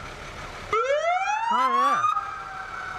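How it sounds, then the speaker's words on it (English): A 2016 Dodge 3500 fire brush truck in a fair parade sounds its siren as a loud rising wail with a quick warbling yelp partway through, over street noise, with a brief voice. "Does that thing have a siren in it?"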